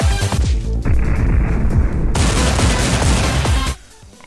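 Rapid, heavy gunfire with a muffler effect applied, a dense burst of overlapping shots that turns dull and muffled for a stretch before the crisp reports return, then cuts off abruptly.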